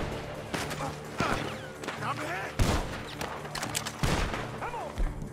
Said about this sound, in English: Die Schüsse.